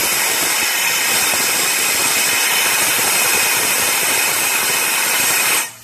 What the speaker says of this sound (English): if you're using a metal blower like mine, try not to let the tip of it scratch the cylinder walls.